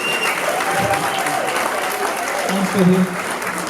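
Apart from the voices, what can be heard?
wedding guests' round of applause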